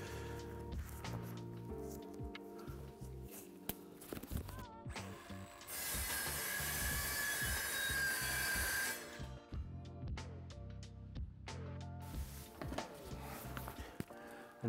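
A circular saw cuts through an LVT vinyl flooring plank in one loud, steady burst of a few seconds, with clattering, tapping handling noises before and after.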